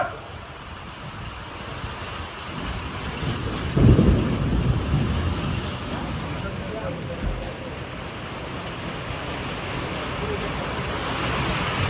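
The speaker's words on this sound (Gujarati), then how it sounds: "આમ વરસાદ છે" Steady rain falls over a farm as a continuous broadband wash of noise with a louder rumbling swell midway, and faint voices sit beneath it.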